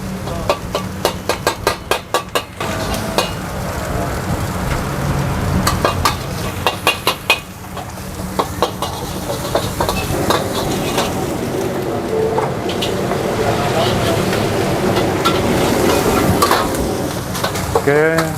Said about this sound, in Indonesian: gue bikin nasi goreng Singapura ya. Mix vegetable dengan ayam